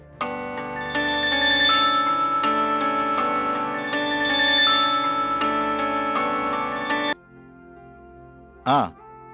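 A phone ringtone plays loudly, a repeating melodic tone that rings for several seconds, then stops, followed by a short sliding electronic chirp.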